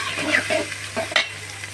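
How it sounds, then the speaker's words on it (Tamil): Onions sautéing in oil with mustard seeds, a brief close sizzle with a couple of spoon stirs and small pops over a low steady hum. "வெங்காயம் போட்டுக்கலாம். வெங்காயம் நல்லா வதங்கட்டும்."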